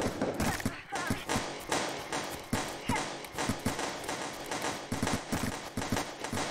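Rapid gunfire in the Cyberpunk Girls shooter game: a long run of quick, evenly spaced shots, close and loud, continuing throughout with barely a pause.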